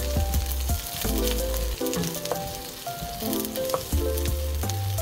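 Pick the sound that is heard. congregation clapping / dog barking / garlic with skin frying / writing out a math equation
garlic with skin frying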